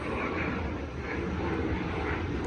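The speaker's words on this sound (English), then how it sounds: "You have to pardon the airplanes flying overhead." Airplanes flying overhead produce a steady, fairly loud broadband engine drone that fills the whole stretch without pause. There is no talking.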